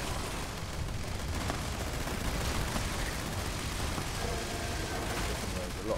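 Gauss minigun in Fallout 76 firing in a dense, continuous stream, loud and steady throughout, heavy combat noise blending with a voice talking over it.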